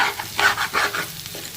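Small onions sizzle in hot oil as they are stirred around a pan for a mixed chicken, mutton and prawn biryani, giving brief scraping bursts close up, with no talking.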